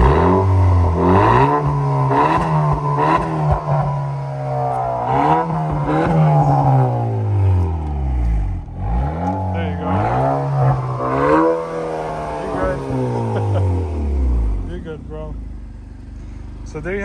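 Honda Accord 2.0T fitted with a Borla exhaust, revved repeatedly while parked: loud, close rising and falling engine sweeps in a series of blips, with people talking over it.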